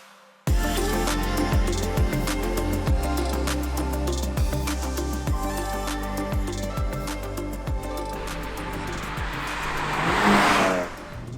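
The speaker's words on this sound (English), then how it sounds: "Move to the rear of the car and the exhausts are insane." A 2021 Hyundai i30 Fastback N with an 8-speed DCT and 280 PS roars loudly and steadily as it drives, its exhaust crackling and popping in repeated bursts before a sharp rising surge near the end.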